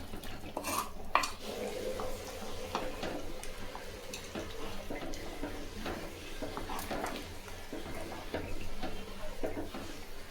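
Eggplant pieces being stir-fried in a pan for a Tamil eggplant thokku with a little jaggery, with steady clinks and scrapes of a spoon against the pan over a soft sizzle. No voices.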